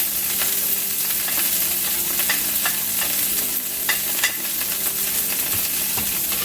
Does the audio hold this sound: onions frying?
yes